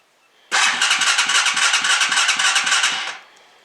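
A Honda Hawk 250 motorcycle engine cranks and catches nearby, a rapid chugging burst of about two and a half seconds that then cuts out abruptly.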